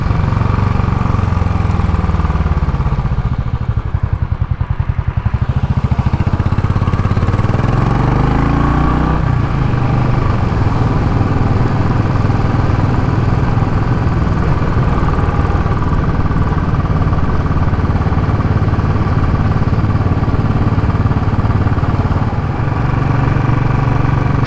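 Royal Enfield Classic 500 single-cylinder engine idles steadily after warming up, a continuous close, loud low thumping drone that barely changes, with a faint rising blip around the middle and no talking.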